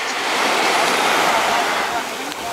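Ocean surf rising around waders at Praia da Ferradura beach in Búzios, a steady broadband wash of waves, close and fairly loud, with wind noise over the microphone.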